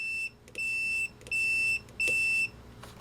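A Mastech MS8211 pen-style multimeter sounds its continuity beeper in four raspy, buzzing beeps of roughly half a second each, with short gaps between them and a faint click at the end.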